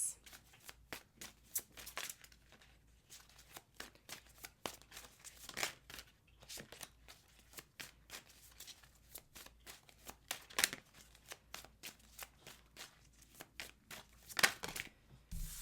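Tarot cards being shuffled close up, quick irregular bursts of papery flicks and riffles in a quiet room, with a few faint words between them.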